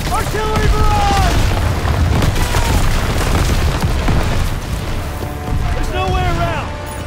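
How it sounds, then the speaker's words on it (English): Artillery barrage in the Call of Duty: WWII video game: a continuous loud rumble of heavy booms and blasts with shouted voices over it throughout. "Artillery barrage!"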